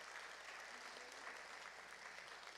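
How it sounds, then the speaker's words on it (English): Steady audience applause at a mental health symposium for guests from FERC, a faint, even patter of many hands clapping that holds unchanged for a couple of seconds. "I'd like to give you a round of applause for these folks"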